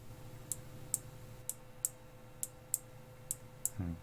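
Small 5-volt relay clicking on and off at a microcontroller workbench, eight or nine crisp, faint, evenly spaced clicks about half a second apart over low background hum, with a brief rustle at the end.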